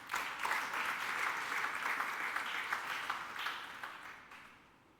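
A church congregation applauds the Lord during a sermon by Prophet Koffi Samuel, a steady wash of many hands clapping at close range that holds for several seconds and then fades away.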